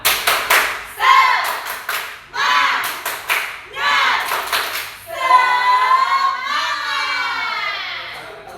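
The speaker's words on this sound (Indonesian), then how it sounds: "yuk kita tepuk semangat dulu" A primary-school class of fifth graders performs a rhythmic spirit clap, bursts of claps alternating with children's chanting voices in a patterned sequence, close and fairly loud, ending in sustained group chanting.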